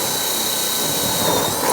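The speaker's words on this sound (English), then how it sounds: "we're going to go down and we're going to rivet the bottom of the trim to the roof" A rivet tool fastening metal trim to an insulated metal-clad garden room roof, a brief loud continuous whirring burst close by with no talking.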